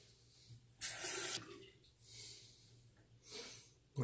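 Tap water running in short bursts at a sink while a razor is rinsed during a wet shave with a Schick II razor, with quiet breathing and snorting between the bursts.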